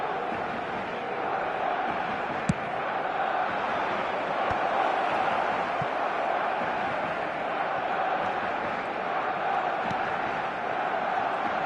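Simulated stadium crowd from an eFootball match between Barcelona and a rival side, a steady broad roar of cheering that holds at an even level throughout, with a few faint thuds and an announcer's commentary under it.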